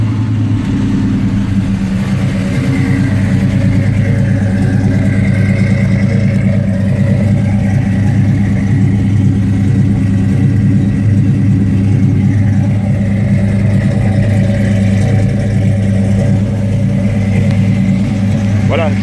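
A 1980 Ford Bronco engine with a full dual exhaust line runs at a steady, deep idle, close and loud throughout, with someone talking over it.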